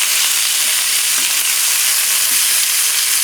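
Chicken pieces browning in a hot pan for chicken cacciatore, giving a steady, loud, close sizzle and crackle of frying that runs unbroken throughout, with no talking.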